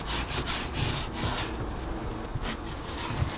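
Black glue scraped off the bodywork of a rotting MK2 Golf GTI, a close, continuous gritty rasping with rapid repeated strokes that blur together, loud and steady throughout with no voices.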